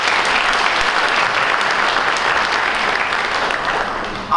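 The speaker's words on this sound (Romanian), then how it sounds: "vă invit să-i aplaudăm în semn de bun venit" Steady, dense applause from a crowd at a general assembly of a political party's local branch in Roman, welcoming party colleagues; loud and sustained throughout, without pause or talk.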